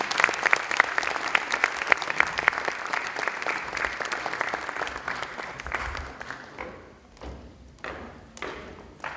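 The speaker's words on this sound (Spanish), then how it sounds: "Recibimos con un fuerte voto de aplausos al doctor Graham." An audience claps loudly in welcome for Dr. Graham at an evening talk, a dense steady burst that thins out toward the end into scattered claps.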